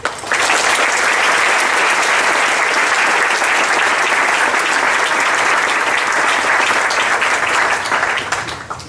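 Loud, sustained applause from a graduation baccalaureate ceremony audience welcoming the speaker, a dense steady wash of clapping that holds for about eight seconds before starting to thin at the end.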